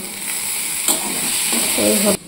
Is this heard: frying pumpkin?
yes